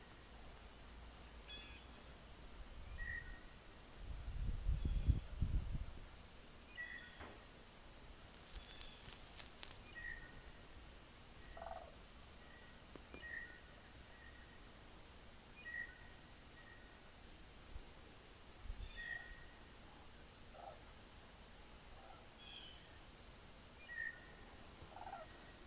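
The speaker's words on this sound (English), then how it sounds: "Can hear geese up here above the caboose." Geese call overhead in spring above a caboose, their faint, distant honks coming in scattered, repeated bursts over a quiet outdoor background with occasional wind bumps.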